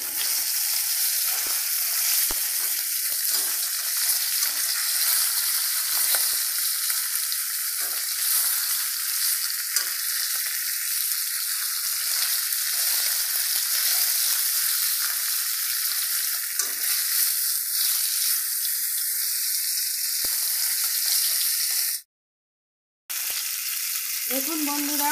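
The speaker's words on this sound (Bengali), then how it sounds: "মাছ আমার প্রায় ভাজা হয়ে গেছে, আর একটু হবে, এবার তুলে দেবো।" Fish fries in hot oil, a loud, close, unbroken sizzle and crackle with occasional stirring clinks, lasting over twenty seconds before a short break of silence and a brief return.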